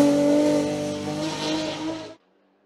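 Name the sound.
rally race car driving, Renault Clio or BMW M3 E36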